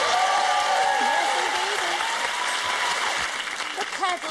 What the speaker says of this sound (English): All right, Chuck, I think that deserves a big round of applause